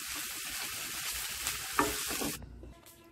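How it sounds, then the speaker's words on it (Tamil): Schezwan veg fried rice being stirred in a hot pan, a continuous crackling sizzle with scraping spatula strokes that peak in a sharp clatter before the sound abruptly drops away to near quiet. "இதை நல்லா நம்ம மிக்ஸ் பண்ணி விட்டுட்டோம்னா நம்ம schezwan veg fried rice ready"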